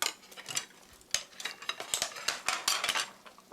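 Kimchi fried rice spooned onto a plate: a run of light, close clinks and scrapes of a metal spoon against the dish and pan, quiet and irregular.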